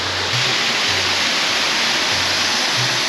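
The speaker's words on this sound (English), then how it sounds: "This is the base of the waterfall" Steady, loud roar of falling water at the base of a waterfall in Ecuador, a dense unbroken rush close by with no voices.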